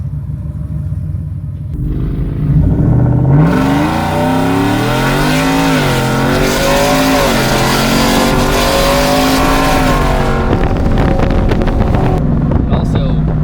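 A Ford F150 fitted with a Whipple supercharger accelerates hard from inside the cab, its engine note climbing steadily over about ten seconds, loud and close with supercharger whine and wind noise, then easing off.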